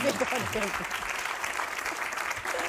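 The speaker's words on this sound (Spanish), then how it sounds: "Así aplaudan, aplaudan." Audience applause on a Spanish comedy talk show, steady clapping running under a talking voice, moderately distant and fairly quiet.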